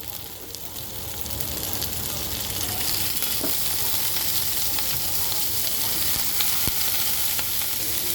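Cut potatoes tossed into a pan of already fried onions give off a steady, close sizzle of frying, with faint stirring scrapes running under the hiss throughout.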